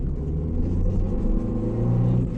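A Saipa Tiba car being tuned for a sporty sound runs its engine with a steady, muffled low rumble, close and continuous with no talking.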